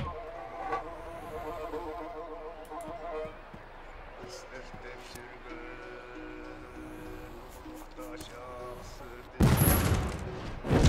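A single booming cannon blast, fired with gunpowder and a cannonball in the game Alyosha Popovich and Tugarin Zmey, erupts near the end, loud and sharp, after stretches of game sounds and someone talking.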